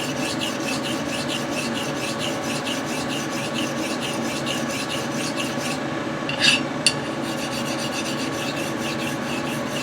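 A beater straight razor's bevel being honed on an Arkansas stone, a steady rhythmic rasping rub of stroke after stroke, close and even, with a couple of brief sharper clicks partway through.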